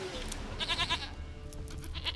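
A goat in The Witcher 3 lets out a short, wavering bleat of a few pulses near the middle, close and clear over a constant game background.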